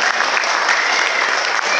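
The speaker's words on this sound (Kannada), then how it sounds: "ನಾವೆಲ್ಲರೂ ನಿಮ್ಮ ಚಪ್ಪಾಳೆ ಕೊಡೋಣ" Dense, steady applause from a crowd at a devotional music program held by a temple service trust, loud and continuous throughout with no breaks.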